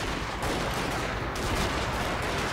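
Wooden cannons fire in Shogun 2: Fall of the Samurai as a dense, continuous barrage of overlapping booms and crackling blasts, loud and unbroken.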